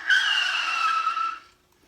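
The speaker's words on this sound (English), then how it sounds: "There's the sound of brakes being applied." A car brakes hard and its tires let out a sharp, tonal skid squeal that holds for over a second, then fades into silence. The sound is close, clear and on its own.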